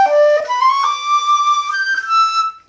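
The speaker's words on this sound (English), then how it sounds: "if I were to do that gliss fingered wise, right, and try to compensate for the fact that I can't purely bend a B natural all the way up to D" A solo flute plays a fingered glissando from B natural up to D, stepping upward through clear, bright sustained tones in a continuous phrase that ends abruptly, close and fairly loud with no talk.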